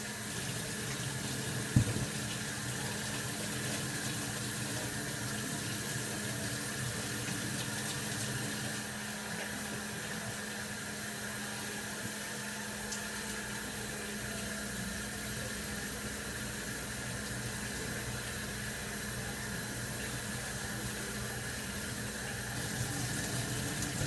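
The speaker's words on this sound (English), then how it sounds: "Wash my hands, of course." Tap water running steadily into a sink as hands are washed in a home kitchen, a constant hissing stream lasting the whole stretch with a brief clunk early on.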